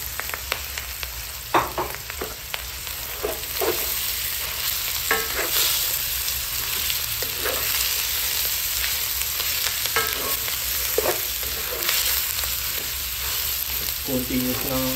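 Ground pork frying in a pan for a Kapampangan tortang giniling, a steady bright sizzle with repeated scraping and clinking strokes of a utensil as the meat is continuously stirred, close and loud with no talking.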